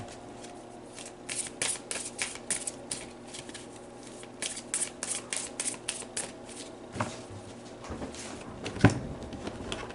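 Tarot cards are shuffled by hand in quick riffling bursts and soft slaps, a steady papery flutter up close with a few sharper snaps.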